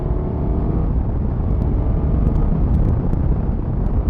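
From the rider's position, a 2023 Suzuki GSX-S1000GT motorcycle engine drones steadily and loudly while accelerating on the road, with wind rumble beneath it.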